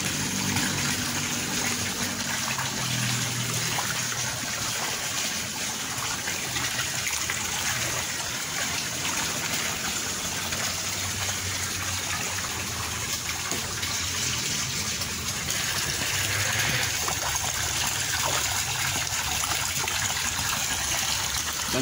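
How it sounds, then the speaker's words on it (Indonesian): Water flowing and swirling steadily in a plastic pond used for farming silk worms, a continuous rushing gush with trickling, close and alone throughout. "Dan juga airnya nanti akan muter ya"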